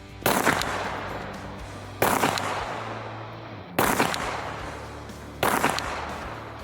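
An OSA PB-4SP non-lethal launcher fires colored signal cartridges in four sharp, loud reports spaced about one and a half seconds apart, each blast trailing off in a decaying rumble.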